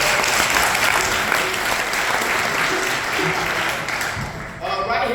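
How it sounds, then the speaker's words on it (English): Crowd at a live bluegrass concert at the ETSU Bluegrass Camp clapping for a guitarist, a full, sustained round of applause that thins slightly toward the end as instruments begin to sound. "Give him a nice round of applause."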